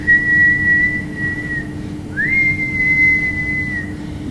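Breath blown through a hollow, tube-like key makes a loud, thin whistle, one steady tone that breaks briefly and then resumes with a rising slide before holding steady again.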